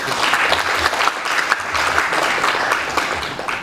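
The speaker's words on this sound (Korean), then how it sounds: "박수로 부탁드리겠습니다." Audience applause at a lecture on smart offices fills the space, a steady, dense clapping from a room full of people, loud and continuous throughout with no voices over it.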